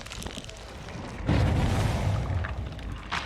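A loud, deep explosion booms in the Dead by Daylight video game, bursting in suddenly after a quieter stretch and rumbling on for about two seconds before tailing off.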